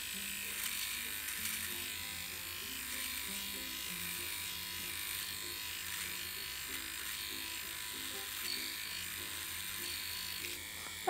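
A small, affordable pocket electric shaver buzzes steadily and close up as it is run over facial hair, a constant motor whine with slight shifts in pitch as it moves across the skin.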